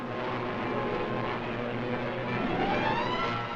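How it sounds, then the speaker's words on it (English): Fighter planes on a wartime morning patrol over Italy drone steadily and loudly, a continuous dense engine roar with slight swells and no pauses throughout. "The morning fighter patrol. They're flying over Italy"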